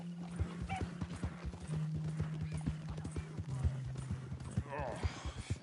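Horse hooves in Red Dead Redemption 2 beat a steady, close clip-clop rhythm throughout, with a whinny near the end and a low steady drone beneath.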